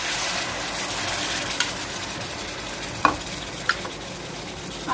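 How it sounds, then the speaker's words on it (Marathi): Half a cup of water poured into sizzling paneer masala for paneer do pyaza, giving a loud, even hiss and bubbling roar with a few faint clinks of a spoon. "त्यात आता मी 1/2 कप पाणी घालते।"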